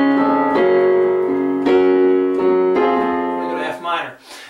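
Piano plays a single measure of a piece, a sequence of sustained chords struck about once a second, ringing clearly and fading out near the end, with no talking.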